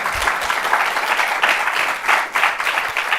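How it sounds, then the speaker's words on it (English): Steady clapping from an audience at a company results presentation, a continuous patter of many hands throughout the short stretch, fairly loud and uninterrupted. "A bigger applause."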